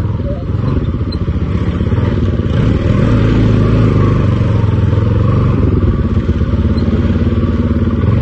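Motorcycles on an off-road group ride, a loud, close engine drone with a steady rough putter that holds throughout, no voices audible.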